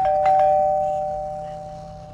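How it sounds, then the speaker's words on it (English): A doorbell chimes once, two bright tones ringing out and slowly fading, fairly close with no voices. "the doorbell rang."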